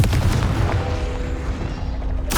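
A Confringo blasting spell explodes in Hogwarts Legacy with a loud, booming blast and a rumbling, decaying tail that carries through, followed by another sharp burst at the end.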